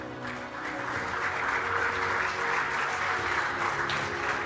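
An audience applauds at a safety awards event, a sustained wash of clapping from many hands that swells slightly and stays even to the end, with no voices over it.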